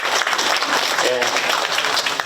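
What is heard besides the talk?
audience applause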